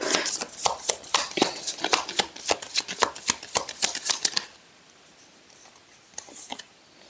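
Tarot cards riffle and snap in a quick run of crisp, close shuffling strokes, then go quiet before a couple of soft card draws near the end.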